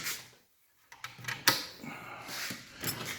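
A US General tool cart drawer of wrenches slides open with a rattling metal rumble, followed by a sharp clack and some clinking of loose tools inside.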